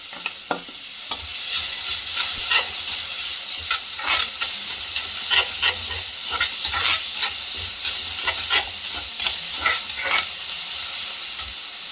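Onions with ginger and garlic frying in a pan, a loud close sizzle that starts after a second and carries on steadily, with frequent scraping stirs and small pops, no speech.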